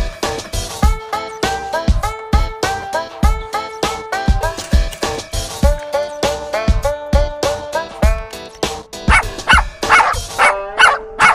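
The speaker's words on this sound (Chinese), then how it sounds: "老婆，你听是不是我们的狗叫？" A pet dog barks loudly and close in a long, rapid, rhythmic series of two dozen or so yapping barks, growing more excited toward the end, with no talk over it.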